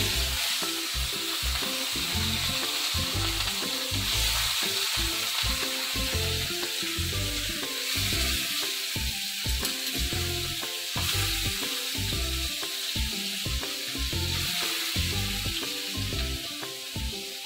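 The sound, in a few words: pieces of jitada fish frying in a pan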